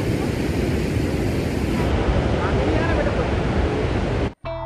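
Purwa waterfall in Rewa roars with loud, continuous rushing water, a dense broadband wash that holds steady before cutting out abruptly near the end.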